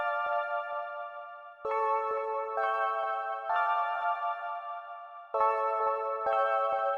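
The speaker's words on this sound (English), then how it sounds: "it's a key, it's a synth key." A bright synth key plays a repeating pattern of sustained chords that shift in clear steps, clean and moderately loud on its own, with short percussive ticks marking the changes.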